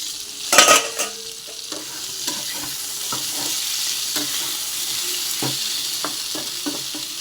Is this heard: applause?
no